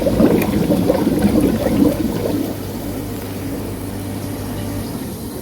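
Water rushes through a Maquet HCU 40 heater-cooler unit during its rinse cycle, a loud gushing flow that settles into a steadier, quieter trickle and hum after about two seconds.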